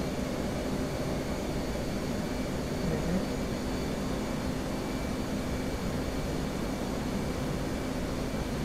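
In the DCS flight simulator, a jet aircraft engine drones as a steady, broadband roar with a faint tonal whine, constant and unbroken throughout.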